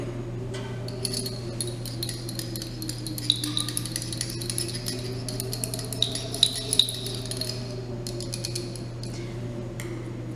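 A glass test tube is shaken to mix a solution in a chemistry lab, producing a steady run of light, bright glassy clinks and rattles over a constant low equipment hum.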